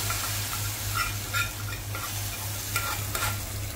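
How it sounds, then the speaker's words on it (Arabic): Tasha, a fried garlic topping, hisses as it goes into a pot, making a continuous close sizzle with bursts of bubbling and stirring and a steady low hum beneath. "هنحط الطشه كده"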